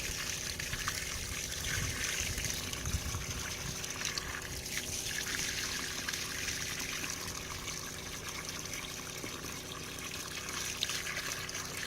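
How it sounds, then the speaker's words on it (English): Water from a hose pours steadily into a laundry machine for off-grid washing, a continuous close trickling and splashing that stays even throughout with no talking. "dumping the water in the machine."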